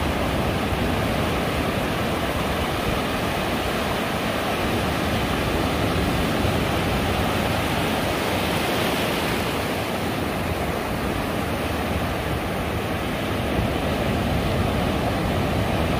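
Ocean surf breaking on a beach where a cast net is thrown from the shore, a steady loud wash of waves rolling in continuously with no pauses and no voices.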